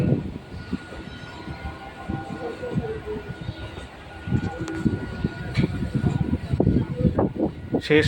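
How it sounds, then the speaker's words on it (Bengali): A train pulls slowly into Howrah station with a low rolling rumble and scattered clanks and thuds from the wheels and carriages. Voices murmur faintly in the background. "আমাদের ট্রেন ঢুকলো হাওড়া স্টেশনে"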